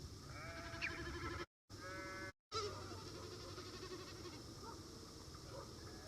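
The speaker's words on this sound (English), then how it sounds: "just so you can hear the best snipe drumming that I managed to record" A common snipe drums by vibrating its outer tail feathers in flight, producing faint, distant, tremulous bleating hums that waver in pitch over a soft open-country background, with two short silent breaks.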